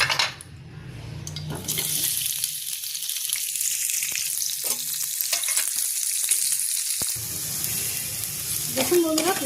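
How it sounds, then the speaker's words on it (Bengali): Onions fry in a little oil in a pan, a continuous close sizzle with occasional stirring scrapes and clinks of utensils against the pan. "এবার ওই প্যানেতেই অল্প করে তেল দিয়ে আমি পেঁয়াজটা ভেজে নেব।"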